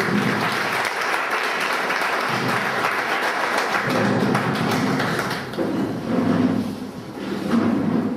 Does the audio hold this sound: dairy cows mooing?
no